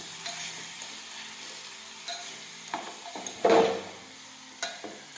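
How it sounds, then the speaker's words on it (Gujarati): Garlic sautéing in hot oil in a pan for Schezwan chutney, a continuous gentle sizzle broken by scattered stirring scrapes and a louder clatter midway, close and without talk. "હવે આપણું તેલ છે તે ગરમ થઈ ગયું છે. હવે આપણે તેમાં લસણ નાખી દઈશું. થોડી વાર આ રીતે આપણે સાતળી લઈશું."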